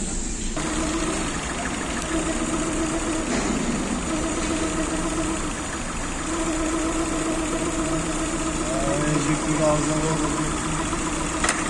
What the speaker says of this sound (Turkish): LPG geçişi gerçekleşti. Ha, rolantıda hafif bir titreme var.